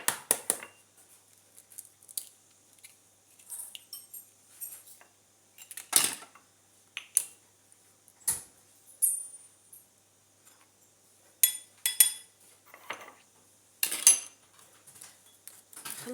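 A utensil clinks and taps against a bowl while an egg yolk is separated and mixed in, in scattered bursts of close metallic knocks and scrapes with short pauses between.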